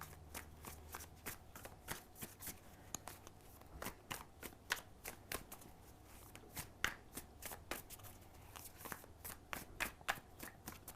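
Tarot cards shuffled and handled during a reading, a steady run of crisp riffling snaps and slaps close up, repeating throughout without any talking.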